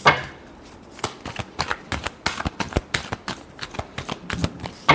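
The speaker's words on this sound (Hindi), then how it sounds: "Last shuffle." Tarot cards being shuffled by hand, a close run of crisp riffling flicks and taps in an irregular rhythm that fills the whole stretch, with no talk.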